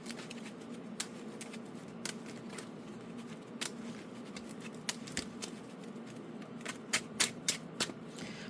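Cards in cheap standard-sized plastic sleeves being shuffled, giving soft crackling, scratching riffles and irregular sharp clicks that grow louder toward the end, with no talk.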